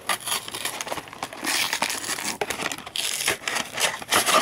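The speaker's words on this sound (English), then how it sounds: "Guess let's rip this package open." A plastic toy dinosaur figure package is ripped open by hand, a loud, close, continuous crinkling and tearing of stiff plastic that rustles in uneven surges throughout, with no talking.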